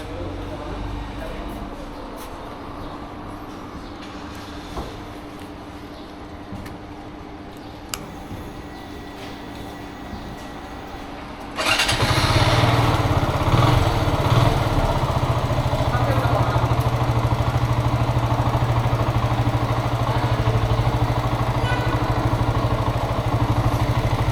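A Zontes ZT155 G1 motorcycle sits quietly, then its engine starts and settles into a loud, steady close-up running drone as the ride begins.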